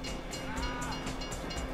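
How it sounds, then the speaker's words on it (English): A train rolls past in Grand Theft Auto V with a loud, continuous rumble and a faint rhythmic clatter of wheels throughout. "If you were local, you'd know the train comes by right now."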